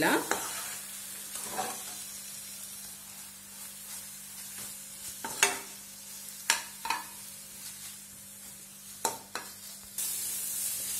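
Egg fries in a pan with red chilli sauce and soy sauce, a quiet continuous sizzle broken by several sharp spatula scrapes and clacks as it is stirred, no voices.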